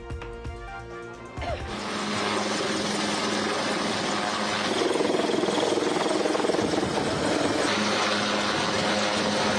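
A steady, loud mechanical roar with a rapid thumping rotor beat from a rescue helicopter during the Wayanad landslide, continuing without pause.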